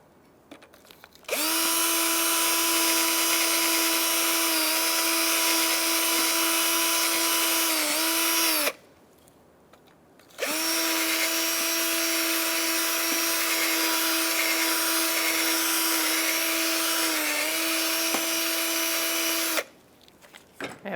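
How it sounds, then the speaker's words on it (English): A power drill whirs steadily while cleaning out the inside of a front brake caliper on a 2014–2019 Kia Soul, two long continuous runs separated by a brief pause, with the pitch wavering slightly under load. "And we'll use our drill"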